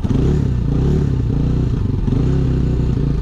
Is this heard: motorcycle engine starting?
yes